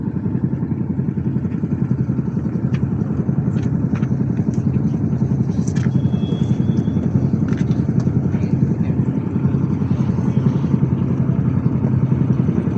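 A launch boat's engine chugs as it departs, a steady, close, rhythmic mid-pitched throb with light clatter on top and faint voices in the background.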